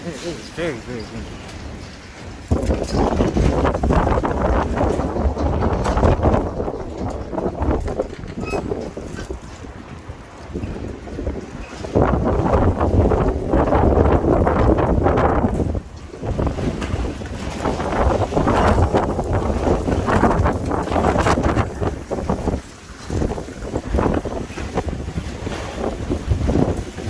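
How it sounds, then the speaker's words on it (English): Sudden monsoon windstorm near downtown Tucson with rain, a loud sustained roar of gusts battering the microphone in waves of rising and easing intensity, with someone speaking now and then. "Man, it is very windy out here."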